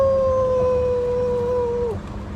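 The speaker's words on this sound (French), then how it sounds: "Bounty, en fait, c'est le nom d'un chien, d'un beagle." A beagle howls in one long, loud, steady drawn-out note that bends downward at the end, close by and with no other sounds.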